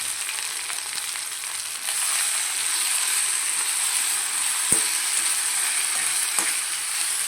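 Four green chillies fry in hot oil in a pan, a dense, steady sizzle that stays loud and even throughout, with one small knock partway through.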